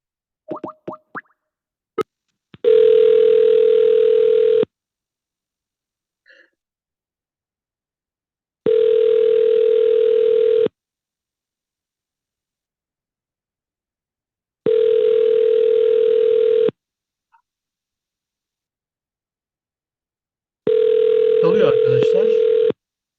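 Telephone call tone while a number is redialled, sounding as four long, evenly spaced steady beeps separated by silences, with brief clicks at the start and some noise over the last beep.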